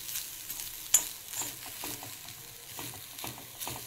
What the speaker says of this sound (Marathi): हे आता चांगलं खोबरं परतून घेते